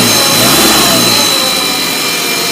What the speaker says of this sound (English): other than one noisy air pump